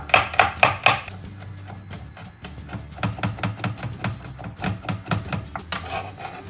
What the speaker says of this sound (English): This time I'm gonna chop the garlic to enjoy the texture.